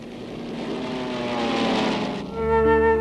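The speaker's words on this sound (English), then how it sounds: "On the 46th night of the war, Nazi bombers came again to Moscow." World War II Nazi bomber aircraft over Moscow at night, a steady droning propeller engine roar that swells and then gives way to a different harmonic engine tone.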